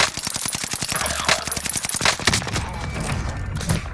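Call of Duty: Modern Warfare gunfire: a rapid machine-gun burst of sharp, evenly spaced shots, followed by scattered further shots and impacts amid busy game sound.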